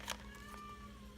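A cat meows once indoors, a short, fairly close cry over a steady low hum, then the room stays quiet.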